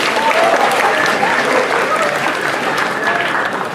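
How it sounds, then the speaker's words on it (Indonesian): Dense, continuous applause from a school crowd of students and staff at a student council candidates' debate, loud and steady throughout. "Tepuk tangan untuk kita semua"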